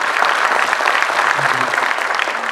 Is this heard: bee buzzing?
no